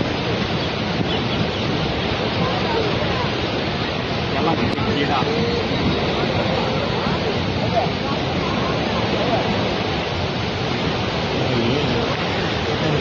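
Water rushes loud and continuous like a torrent, a broad steady roar that fills the whole clip with no break.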